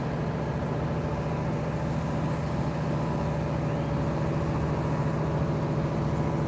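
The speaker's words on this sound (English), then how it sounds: "they're throttling up the crane here." A crane's heavy engine drones at the SpaceX Starbase rocket garden in Boca Chica, Texas, a steady, low, unbroken rumble at constant loudness with no voices.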